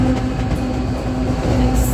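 A White Pass railway train runs near Skagway, Alaska, with a steady loud rumble, a constant mechanical hum and faint rhythmic wheel clatter, heard from on board at close range without clear talking.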